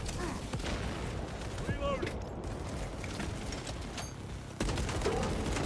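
A big gun fires in Warhammer 40K Space Marine 2, heavy booming blasts and rattling fire within a dense battle din that grows louder toward the end.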